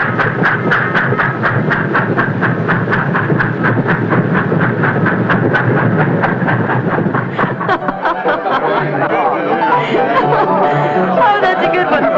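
Train rolling out with a steady clickety-clack of wheels, loud and close, under people talking; the rhythmic beat stops partway through, leaving a rumbling wash of noise and voices.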